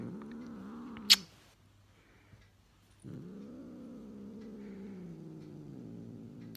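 A house cat purring softly and steadily up close, in two long stretches separated by a brief pause with a sharp click.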